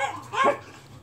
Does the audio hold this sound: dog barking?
yes